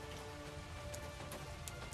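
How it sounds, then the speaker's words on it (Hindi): Light drizzle patters steadily on surfaces, a soft continuous wash of rain with a few sharper drops, heard alone in an animated Hindi story scene. "अगली शाम फिर बूंदाबांदी शुरू हुई।"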